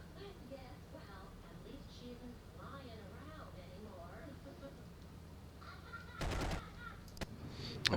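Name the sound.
bomber turret machine gun firing, Cliffs of Dover video game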